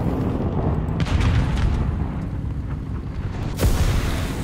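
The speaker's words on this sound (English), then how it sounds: "Let's go ahead and shoot that wall out in case we see somebody pop through" Tank gun fire from an A13 Mk I in War Thunder blasting out a wall: loud booming shots over a continuous rumbling engine and battle bed, with one sharp blast near the end.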